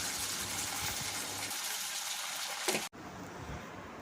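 A little water poured into a pan of browned dry fruits for a noodle dessert, a steady gushing splash under faint room noise that cuts off abruptly, followed by a quieter, softer tail.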